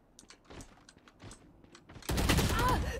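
Valorant gunfire starts as a loud, dense burst of shots after a stretch of quiet clicking and light tapping, and the rapid firing holds steady to the end.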